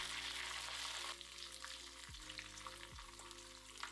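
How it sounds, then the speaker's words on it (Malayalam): Hot coconut oil sizzles steadily in a pan as mustard seeds splutter, with a couple of low thuds and faint scattered pops over the frying hiss; no voices. "1 ടേബിൾ സ്പൂൺ വെളിച്ചെണ്ണ ഒഴിച്ച് ചൂടാകുമ്പോൾ 1/2 ടീസ്പൂൺ കടുകിട്ട് പൊട്ടിക്കുക"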